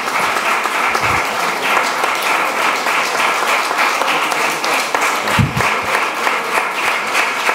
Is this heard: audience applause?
yes